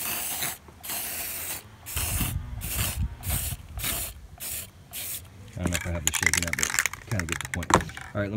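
Rust-Oleum Hammered paint hisses from a rattle can in a series of short bursts of spraying, with a person talking between and around them.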